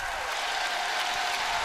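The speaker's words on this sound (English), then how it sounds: "And you hear the home crowd reacting." Home crowd at a figure skating event in Russia, a brief wash of broad applause and cheering filling the arena, steady and fairly distant.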